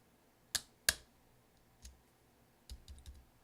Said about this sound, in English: we're just going to press down until we hear it click.